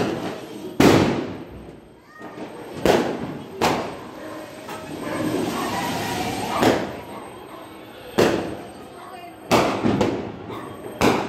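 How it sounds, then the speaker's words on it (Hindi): Diwali firecrackers bursting nearby during a festival night, several sharp loud bangs spaced irregularly over a continuous crackling, rumbling wash of more distant explosions. "और बहुत पटाखे फूट रहे हैं"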